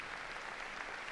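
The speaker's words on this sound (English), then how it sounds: "we hear the applause, and Pope Leo XIV comes out onto the stage here in the Paul VI Hall" Steady, faint applause from a large audience fills Paul VI Hall as Pope Leo XIV steps onto the stage, a dense, even wash of clapping with no break.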